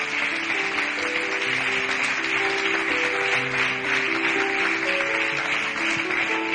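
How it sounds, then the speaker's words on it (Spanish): A church congregation claps and cheers in steady, dense applause that holds at full strength throughout, with no speech over it. "Denle un aplauso a Dios"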